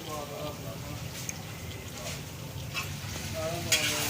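Spiced chicken karahi stirred in a sizzling pan, a steady frying hiss with scraping spoon strokes near and clear, and occasional talk alongside.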